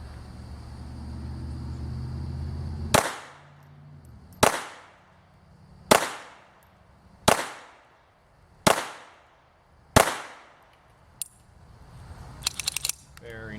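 A cheaply made Jennings J-22 pistol fires six sharp, loud shots at steady intervals of about one and a half seconds, each cracking close by and ringing off briefly, followed by a softer click and some light rattling at the end.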